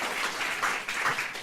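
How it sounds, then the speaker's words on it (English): Brief burst of audience applause at an agricultural antimicrobial resistance presentation, soft and fairly distant, a continuous wash of clapping for about a second and a half. "So I'd really like to give them a round of applause"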